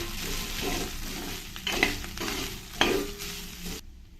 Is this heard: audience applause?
no